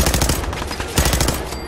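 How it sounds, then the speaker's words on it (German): Rapid automatic fire from an improvised rifle in Fallout 4, a loud, fast stream of overlapping shots over a short burst. "dieses improvisierte Gewehr ist der letzte"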